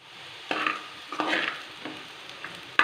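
Bitter gourd sautéing in a pan, a soft steady sizzle punctuated by three or four distinct stirring scrapes of a spatula against the pan, close and fairly loud, with a sharp clink at the very end.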